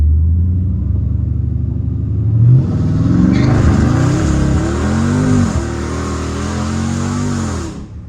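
A Dodge Challenger Scat Pack launching in the rain, its V8 engine revving up and pulling hard in loud, rising sweeps heard from inside the car, with no talk over it.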